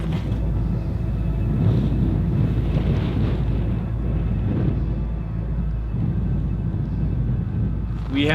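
Strong wind roars steadily across a high mountain ridge, a dense, close, low rumble buffeting the microphone for over eight seconds with gusts swelling and easing.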